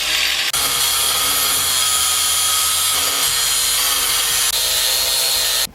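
An angle grinder fitted with a flap disc cuts off the shock tower heads on a Ford F-150. It makes a loud, continuous, harsh whine with a small break near the start, and no talk is heard.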